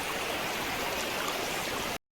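Water pours over Surjyagad Waterfall at Kashipur, running at low flow, as a steady broadband rush heard up close and unbroken for about two seconds before cutting off abruptly.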